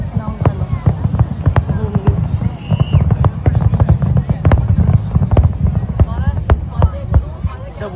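Fireworks bursting over the Burj Al Arab for the 2025 New Year, a dense barrage of sharp cracks and booming thuds in rapid irregular succession with a continuous rumble beneath, loud and close, with people talking throughout.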